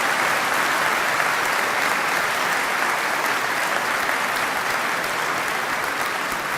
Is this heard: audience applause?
yes